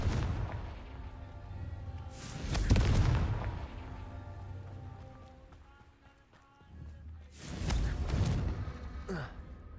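Confringo explosive spell blasts in the Hogwarts Legacy video game, two heavy booming bursts a few seconds apart, with rumbling effects and game sounds between them, no talking.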